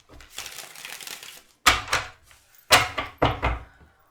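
Papery riffling bursts of tarot cards being shuffled, one longer shuffle followed by three short, sharp riffles with brief pauses between, close and fairly loud.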